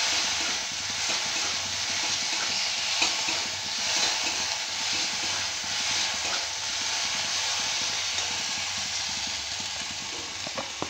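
Chopped tomato frying in a pan, giving a steady, dense sizzle and hiss that holds evenly throughout with faint stirring scrapes underneath, no voices.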